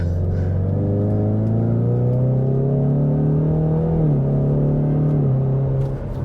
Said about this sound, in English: I like the exhaust sound. I like this engine setup.